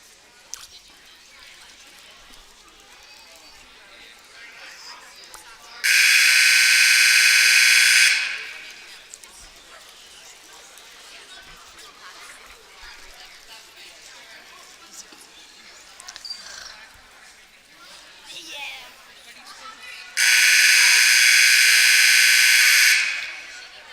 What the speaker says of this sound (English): And that is the second timeout buzzer.